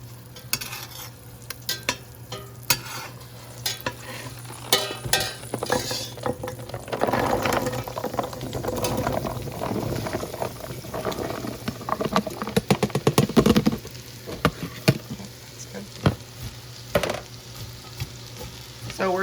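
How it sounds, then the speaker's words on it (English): Chopped potatoes, carrots, onions and celery sauté in a pot, sizzling steadily up close while a spoon scrapes and clacks against the pot in irregular bursts throughout. "So we're just going to saute these vegetables until they're slightly tender."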